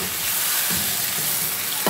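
Chicken pieces hit a pan of oil with well-browned onions, giving a steady, close sizzle and frying hiss throughout, with a soft stirring scrape near the end and no voices.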